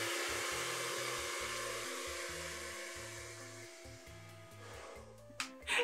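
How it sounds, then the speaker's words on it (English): A hair dryer blows steadily on short, wolf-cut styled hair, a loud continuous whoosh that shifts slightly as the airflow moves, with some handling bumps at the end. "First step, blow dry."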